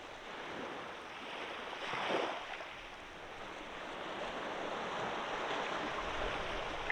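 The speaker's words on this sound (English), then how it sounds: "The beautiful sound of the sea." Sea waves wash in a steady broadband hiss with a gentle surge swelling and receding, soft and continuous with a light breeze, no voices.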